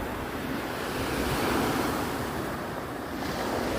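Ocean surf rolls onto South Lido Beach in Sarasota, Florida, a continuous broadband wash of breaking waves with wind buffeting the microphone, steady and fairly close, with no voices.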